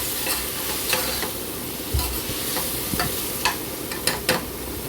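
Mixed vegetables sautéing in a pan for veg pulao, a soft continuous sizzle broken by the scrape and clack of a spoon stirring at intervals, with no voices.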